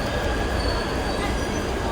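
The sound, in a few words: metro train arriving at station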